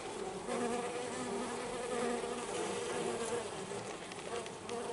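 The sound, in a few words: honeybees buzzing inside a vacuum, eating a sugar block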